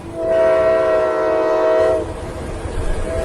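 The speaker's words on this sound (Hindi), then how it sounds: "तभी पास के रेलवे ट्रैक से एक भारी मालगाड़ी गुजरी।" A heavy freight train rumbles past close by on a railway track, its loud horn-like tonal blare sustained for about two seconds before dropping away into lingering rolling rumble and track clatter.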